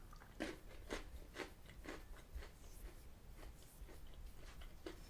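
White chocolate Maltesers-style malt balls are chewed close up, with a run of crisp, evenly spaced crunches at a steady bite rhythm, quiet and without talk.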